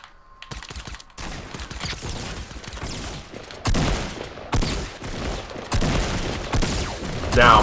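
Fortnite gunfight: rapid bursts of gunfire crackle in dense clusters with short gaps, some shots close and loud. Keyboard clicks and a voice sit under the shooting.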